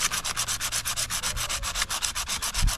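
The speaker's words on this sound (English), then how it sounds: "I just have that same sandpaper we're using to sand that little wooden salt jar, and I'm cleaning off" Sandpaper rubs back and forth along a piece of copper wire to strip it to bare metal, a fast, regular scratching rhythm of about eight strokes per second, close and alone.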